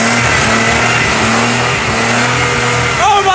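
A 1992 Acura Legend engine, revived with starter fluid after fuel pump and wiring work, runs loud and close in a steady, rough roar that rises slightly at the end.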